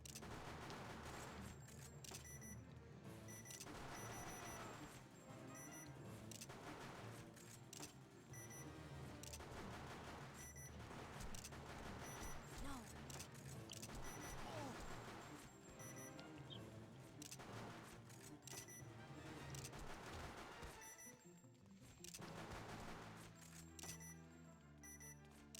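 Rapid gunfire in the PlayStation 2 game Cy Girls, dense and continuous bursts of shots running almost unbroken for the full stretch, loud and close, with brief dips between volleys.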